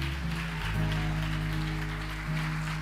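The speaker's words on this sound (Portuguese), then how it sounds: "Se você crê, aplauda Ele bem forte." A church congregation claps together in a steady wash of applause, blended under sustained music that holds level for the few seconds heard.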